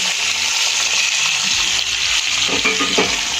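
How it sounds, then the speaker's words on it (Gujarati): Potatoes fry in a pan for a Gujarati parvar and potato curry, making a loud, steady sizzle with the clatter of stirring toward the end. No one talks. "બટેકાના ફ્રાય થતાં થોડી વાર લાગે છે"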